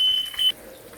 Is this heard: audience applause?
no